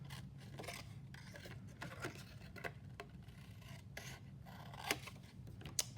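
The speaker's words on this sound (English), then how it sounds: "I'll just use some scissors to cut that off" Scissors snip through paper while trimming a card for a diagonal Z fold, a few soft rasping cuts over a quiet hum, close and faint, with no speech.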